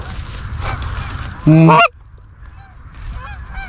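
A flock of geese honking as they pass overhead during a hunt, a loud burst of layered calls lasting about half a second, followed by fainter, more distant honks from other birds.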